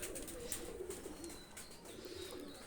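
Soft, low cooing from Pakistani high-flyer pigeons close by, a muffled rolling murmur repeated over a quiet background.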